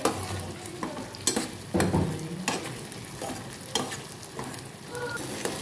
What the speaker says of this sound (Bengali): এটা নাড়াচাড়া করে নিচ্ছি।